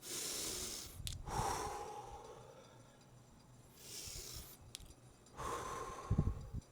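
Slow, deep breaths drawn in and let out in long airy swells, with quiet pauses between them, close and calm with no talking.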